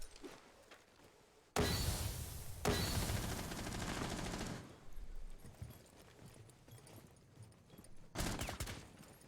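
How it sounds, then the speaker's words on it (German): Rapid weapon fire in the Rainbow Six Siege video game, with a loud sustained burst of shots lasting a few seconds, a brief gap, then another short burst near the end, over quieter game background. "Meine Waffe schießt so langsam"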